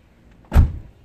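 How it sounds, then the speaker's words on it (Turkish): A car's rear door shuts with one solid thud up close, short and sharp, then fades quickly into quiet. "Arka kapıyı bir kapat bassana."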